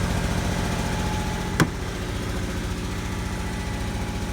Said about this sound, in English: Got an exhaust leak. Pretty sure.